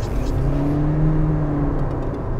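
A Toyota Sienta hybrid with its 1.5-litre engine and CVT gearbox revs in a steady, droning whir that holds a constant pitch, loud and close inside the car.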